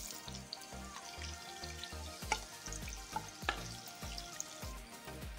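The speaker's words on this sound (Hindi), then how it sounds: "मैं प्याज को थोड़ा सा ब्राउन कर लूँगी" Chopped onion and green chili with cumin seeds frying in hot oil in a kadhi pan, a steady close sizzle with a few sharp stirring knocks, over a heavy, rhythmic low rumble.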